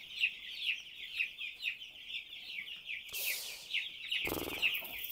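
Broiler chickens sick with aspergillosis make steady, rhythmic high cheeping calls as a flock, with brief bursts of rustling noise near the end and no talk.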